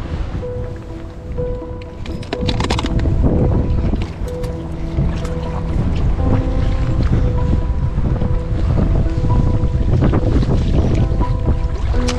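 Steady wind noise buffets the microphone on open water during a fishing outing near a floating platform, with faint water lapping and boat sounds underneath, continuous and fairly loud throughout.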